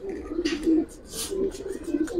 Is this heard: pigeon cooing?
yes